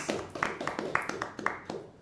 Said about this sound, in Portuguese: vamos dar uma salva de palmas para esse casal abençoado